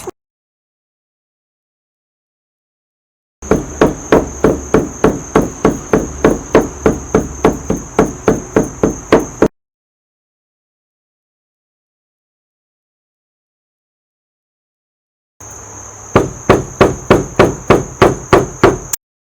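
A hammer pounds amaranth flowers onto a cloth bedsheet to print them, striking in steady rapid runs: about six seconds of evenly spaced blows, a silent pause, then a shorter three-second burst, loud and close with no talk.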